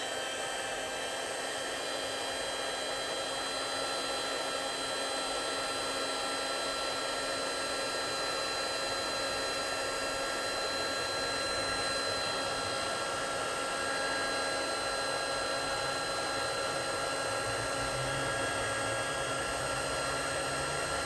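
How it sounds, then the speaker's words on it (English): A heat gun blows steadily on mood charms, giving a constant loud whooshing fan-and-air roar with a fixed whine that runs unchanged throughout, with no talking. "I got my heat gun out, so we'll see what a little bit of heat does to the color on these"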